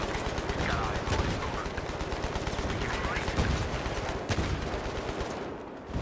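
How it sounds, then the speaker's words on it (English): Sustained machine gun fire from a jeep in a Battlefield match on the Grand Bazaar map, dense and continuous with overlapping gunfire and battle noise throughout, loud and close. "Jeep pushing in and putting a lot of machine gun fire down into the middle of the area"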